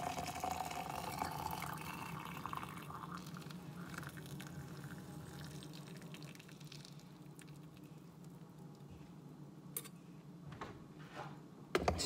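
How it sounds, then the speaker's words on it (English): Chaga tea is poured through a kitchen strainer into a mason jar, a soft continuous trickle of liquid with a few faint clicks of glass near the end. "I'm just gonna pour this into my mason jar."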